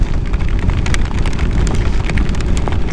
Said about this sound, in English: The rain's feeling harder.